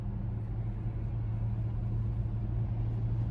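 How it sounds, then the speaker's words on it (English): A BMW X5 45e plug-in hybrid cruises down a highway in sport mode, heard from inside the cabin as a steady low engine and road rumble, even and continuous, with no speech. "But driving down the highway in sport mode, which sounds nice"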